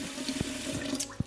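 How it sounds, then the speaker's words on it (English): Running water briefly rinses a ball of washed flour dough for seitan, a soft steady trickle with a few small splashes and a sharp slap near the end, fairly quiet and close. "I'm still going to do one final rinse"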